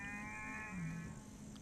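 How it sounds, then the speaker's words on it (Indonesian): A single cow lowing nearby, one drawn-out moo over a steady background hum, no talk. "suara sapi"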